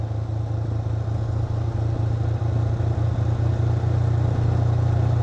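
A motorcycle engine hums steadily while riding in Thailand, a close, loud mid-pitched drone with a slight rise as it picks up speed, mechanical clatter underneath and no voices.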